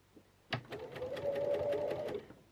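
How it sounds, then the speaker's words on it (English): A sewing machine stitches piping onto fabric, starting with a sharp clack and then running in a steady rapid whir with rhythmic needle ticks for about two seconds before stopping, close and moderately loud. "we're going to sew up until the pivot point"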